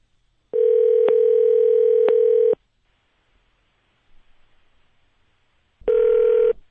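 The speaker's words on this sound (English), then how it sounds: "So let's get Amy Schumer on the phone here." Telephone dial tone placed while calling a guest: a steady, loud electronic tone holds for about two seconds, then silence with faint background noise, before the tone starts again.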